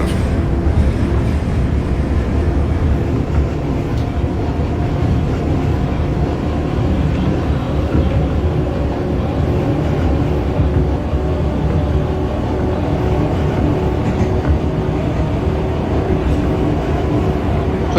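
Continuous rumble and rolling clatter of a simulated New York City subway train, an R142A 2 train running out of Flatbush in the OpenBVE train simulator, with steady wheel-on-rail noise throughout and no speech.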